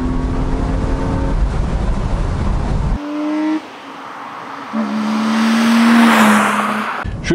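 A BMW E36 328i engine revs hard at high rpm, the pitch climbing, dropping with a gear change, then rising again in a loud, close roar.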